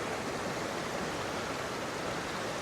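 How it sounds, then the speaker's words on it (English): Water pours steadily down from waterfalls into a gated channel in Kings Canyon near Carson City, a dense, continuous broadband rush with no pauses, close and loud, with no voices over it. "Here is the water that is coming down from the waterfalls here in Kings"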